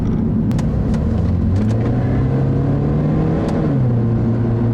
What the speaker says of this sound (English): when you get onto the throttle, the exhaust is a specially tuned one